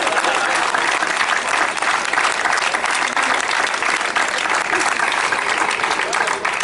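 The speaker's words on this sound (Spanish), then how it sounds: "Podéis aplaudir si queréis, no pasa nada." Loud, sustained applause from an audience at an Equo political rally in Madrid, a dense continuous wash of clapping with no pauses, close and filling the whole space.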